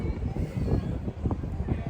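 Strong wind buffets the microphone outdoors in Amsterdam, a continuous low, gusty rumble with uneven surges, while a voice talks faintly underneath.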